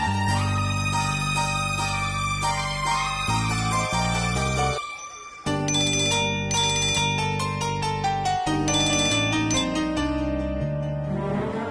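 A phone rings with a loud melodic ringtone, a bright chiming tune that plays continuously, breaks off briefly partway through, then resumes.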